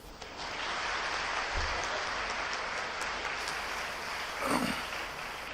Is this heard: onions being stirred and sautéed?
no